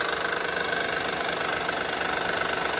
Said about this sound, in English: we either have some noisy cam issues going on here, or we've got something failing in the timing belt system